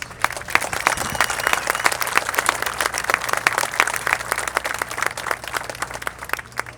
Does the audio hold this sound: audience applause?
yes